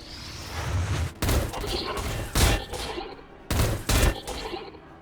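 Bursts of heavy gunfire from a Castigator tank in Warhammer Battlesector, several loud booming volleys in quick clusters over a rumbling battle din, with no speech.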